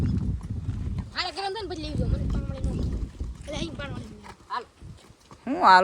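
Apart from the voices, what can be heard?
horse (mare) hooves clip-clopping while being ridden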